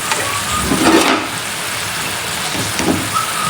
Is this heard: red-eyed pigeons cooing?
no